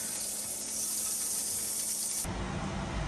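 A steaming hot pan gives off a loud, steady hiss that changes abruptly near the end into a lower, rougher sizzle, with no talking.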